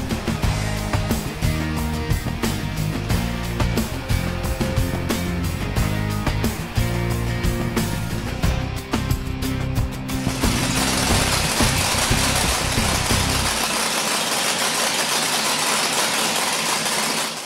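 A drag racing car engine runs on a dyno, a loud, steady, rapid-firing roar with dense pulsing that shifts to a harsher, broadband rush partway through, close and continuous throughout.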